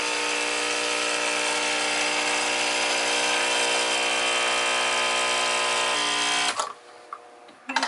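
A Coffee Bean & Tea Leaf pod espresso maker pumps and dispenses coffee with a steady, loud mechanical buzz and hum that runs without a break for about six seconds, then cuts off and leaves quiet clicks.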